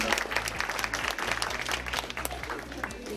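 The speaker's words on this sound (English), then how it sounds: "please clap your hands to this guy" Audience at a Quality Days conference talk on lean applauds an attendee, with steady clapping that holds for several seconds over a low hum in the hall.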